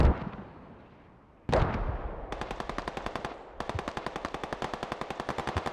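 Mortar and gunfire sound in the video game Squad. Two heavy booming blasts come first, then long bursts of rapid automatic gunfire rattle loudly and evenly with a short pause between them, and no voices are heard.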